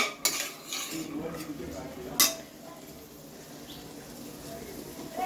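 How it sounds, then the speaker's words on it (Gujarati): Peas being sautéed in masala in a pan over a low flame, with a utensil scraping and clinking against the pan in a few sharp knocks over a soft, steady background. "આ વટાણાને તમારે મસાલામાં ધીમા ગેસ પર સરસ સાતળી લેવાના 2 મિનિટ માટે"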